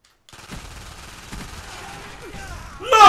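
Gunfire in Call of Duty: Black Ops, a run of rapid shots at moderate loudness over a muffled game backdrop, ending with a louder burst of sound.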